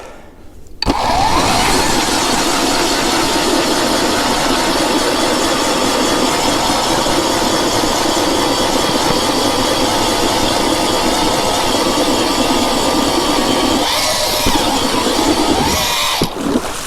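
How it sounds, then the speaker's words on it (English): A Jiffy Rogue 2.0 ice auger drills through drier ice, its engine revving to a loud, steady roar almost at once and holding it close by for over fifteen seconds, with brief changes in pitch near the end. "I'm gonna go just up here where it's drier, so I'm not drilling through kind of that slushy ice right now"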